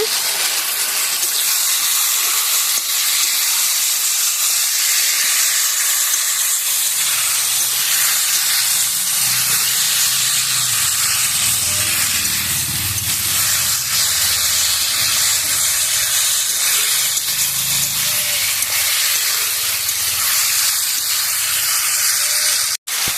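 Mixed vegetables and slit green chilies sauté in a pan, giving a steady, loud sizzle and steamy hiss that runs unbroken throughout, with no talking.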